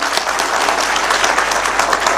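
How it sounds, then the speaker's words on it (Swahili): Sustained applause from a crowd gathered at a funeral service honouring a mother laid to rest, many hands clapping densely and evenly throughout at a steady, fairly loud level. "Tumpigie makofi ingine."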